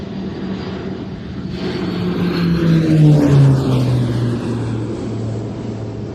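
Conair Turbo Firecat turboprop firefighting aircraft passing overhead at an airshow, propeller drone swelling as it approaches, peaking midway with a falling pitch sweep, then fading as it moves away.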